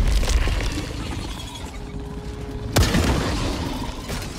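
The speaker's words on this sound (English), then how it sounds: "You throw a bomb at him." Bomb blast in the video game Helldivers 2, a sudden boom striking midway through dense, noisy game action and continuing rumble, loud and close.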